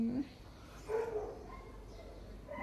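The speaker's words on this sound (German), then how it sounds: "Das sind nur zwei Hunde, ne?" Two dogs, one large and one small, bark outdoors in a residential area in Alanya, Turkey, with a few short barks at a moderate distance under a continuous background hum.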